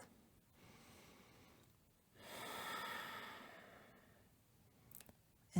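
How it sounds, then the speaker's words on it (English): Slow deep breathing during a yoga hip stretch, a soft inhale followed by a longer, fuller exhale, close and quiet, ending in a brief click. "Two deep breaths"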